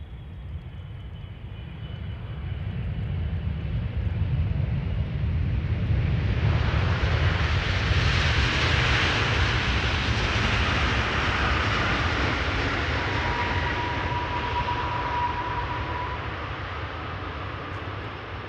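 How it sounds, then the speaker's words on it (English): An Air Canada Boeing 777-200 long range arriving at Amsterdam Schiphol: a jet roar swells from a low rumble to a loud, close broadband rush as it passes, then slowly fades while a faint whine lingers. "This is Air Canada flight 808. It's a 777-200 long range."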